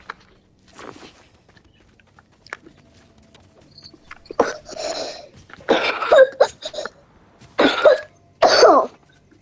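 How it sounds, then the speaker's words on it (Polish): Several people cough in a row during a Fortnite game, a faint scattered cough early on, then loud close bursts of coughing and throat clearing repeating in clusters toward the end, with no talk. "Razem kaszlemy"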